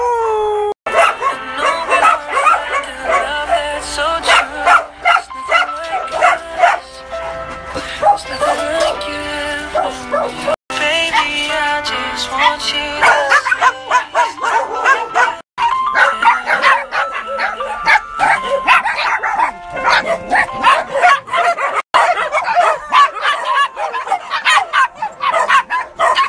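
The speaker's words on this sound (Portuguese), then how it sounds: "que cachorro grande, você meu. É grande, é policial." A large police dog barks, yips and whimpers almost continuously, close and loud, with a person's voice mixed in at times.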